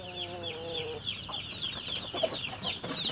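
Chicks cheep in a busy, high chorus while a chicken clucks in a low burst early on, close and moderately loud.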